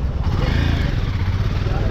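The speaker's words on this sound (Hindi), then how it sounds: "तो ये सारी बाइक्स हैं" Motorcycle engines idling and rumbling together at a group bike ride honoring the Indian Army, a dense low drone close by with someone talking over it.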